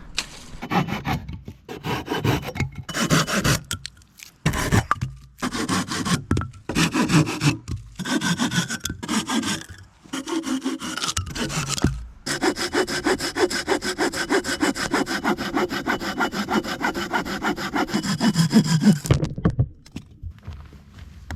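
Firewood sawn by hand at a backpacking camp in a pine forest, with steady rhythmic back-and-forth strokes in bursts and brief pauses, then a long continuous run of close, loud sawing before it stops.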